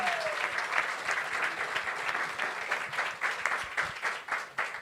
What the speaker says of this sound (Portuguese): uma salva de palmas pela grande vitória